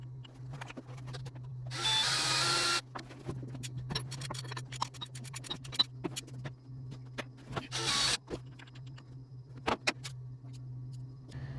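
Oil pump being primed with a drill on a 1964 Pontiac 389 V8 that has sat since 1979: a steady mechanical whir with two louder bursts and scattered clicks and knocks, close up, with no talking.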